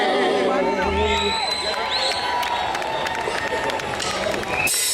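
Loud crowd cheering and whooping at an outdoor live reggae concert, Grooving in the Park in New York, continuous and close with a voice calling out over the noise.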